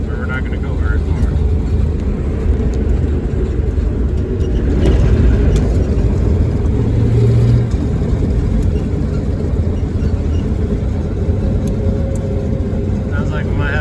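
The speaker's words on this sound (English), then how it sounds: "Sounds like we might have an exhaust leak still." A V8 engine in an AMC Hornet wagon, a 304, drones steadily from inside the moving car, its continuous low rumble carrying a leaky, breathy exhaust note that stays loud throughout.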